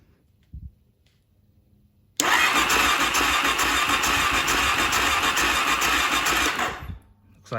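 A Suzuki DRZ400 motorcycle engine, just fixed after having no spark, cranks and catches with a sudden loud roar after a quiet pause. It runs steadily and close for several seconds, then cuts off.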